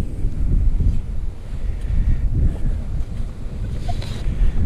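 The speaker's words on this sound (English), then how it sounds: "With a pretty good wind, probably 15, 20 mile an hour." Strong wind of roughly 15 to 20 miles per hour on a cold beach, a loud continuous roar buffeting the microphone, with surf rumbling underneath and no voices.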